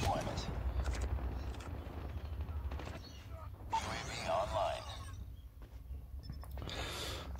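Gunfire from the Call of Duty Mobile video game: scattered bursts of shots at close range, with sharp reports and rattling volleys spread across the span.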